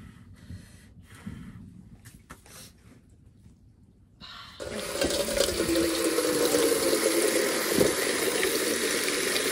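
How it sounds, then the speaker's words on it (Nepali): A village tap starts running partway through, and water pours steadily into a container, rising in pitch as it fills, loud and close after a quieter stretch of faint ambient noise. "पानी भरेर लानु सकेछ"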